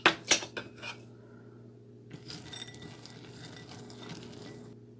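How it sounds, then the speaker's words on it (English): Chocolate chips are tossed with flour in a bowl: a few sharp clinks of a utensil against the bowl at the start, then quieter scraping, rattling and light tapping, all close by and with no talk. "Toss 1 cup of chocolate chips with 1 tablespoon"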